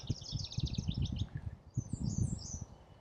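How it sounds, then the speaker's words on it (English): A warbler sings in the wild, with bright high trilled phrases in a couple of short bursts close by, over low rustling and handling noise. "It's some type of warbler"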